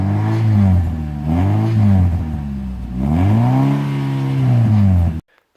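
Oversized twin sports exhausts on a small modified car rev in a few loud, deep surges, the engine note rising and falling close by before cutting off abruptly.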